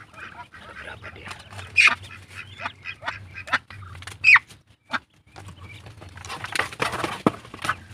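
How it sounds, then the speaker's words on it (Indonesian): Pekin and Muscovy crossbreed ducks honk and quack a few times at close range, with sharp calls scattered over soft background rustling. "Ini blasteran packing sama entok."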